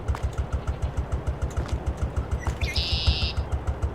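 A tractor engine idles in Farming Simulator 22 with a steady, fast chugging pulse that stays loud and close throughout, with a brief higher whine appearing near the end.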